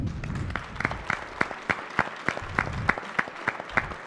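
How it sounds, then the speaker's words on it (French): An audience at an industry trade show trophy ceremony in Reims claps in a loose, rhythmic pattern, fairly sparse individual claps building into steady beats, moderately near. "continuez d'applaudir"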